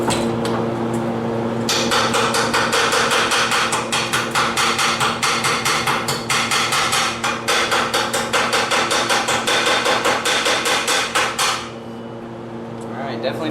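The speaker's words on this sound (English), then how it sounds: "Bust off the slag and see what kind of damage we're doing." Rapid metallic hammer strikes chip slag off a fresh weld bead on a steel mailbox, a fast steady rhythm of sharp close clanks over a constant hum, then stopping abruptly near the end.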